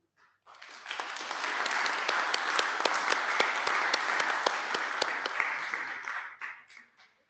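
A conference audience claps after a short lightning talk, a dense, steady burst of applause rising quickly, holding for several seconds, then thinning into a few scattered claps.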